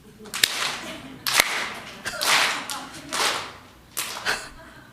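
A church congregation bursts into several short rounds of clapping during a Sunday sermon, each burst swelling and fading over a second or so, with sharp slaps at the onsets and voices mixed in.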